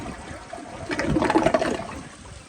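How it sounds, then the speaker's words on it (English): An Acorn stainless steel tank toilet is flushed with its push button, letting out a brief gurgling rush of water that swells and then fades over a couple of seconds. "So here is a flush."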